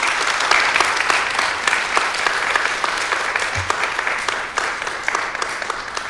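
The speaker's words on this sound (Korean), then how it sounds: "박수 한번 보내주시기 바랍니다" An audience at a church lecture and letter-reading event claps together in sustained, dense applause that stays loud and even for the whole stretch, with no speech over it.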